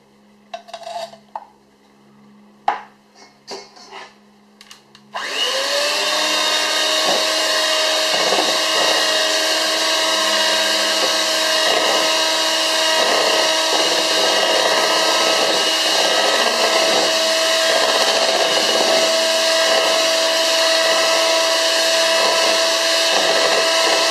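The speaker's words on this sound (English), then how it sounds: "That's our condensed milk and egg yolks well whisked" An electric mixer whisking condensed milk and egg yolks in a bowl: a few seconds of clattering and clinks, then a steady loud motor whine that runs unbroken to the end.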